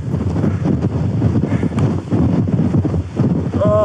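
Strong wind roars at a snowy mountain summit during a winter storm, buffeting a frozen wind muff on the microphone in a loud, continuous, gusting rush.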